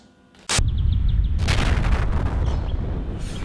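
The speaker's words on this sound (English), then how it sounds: "Oh, secondary explosion. Petrol station." A petrol station blows up as a secondary explosion in a video game, a sudden loud blast that rolls into a sustained, rumbling roar lasting several seconds, close and without talk.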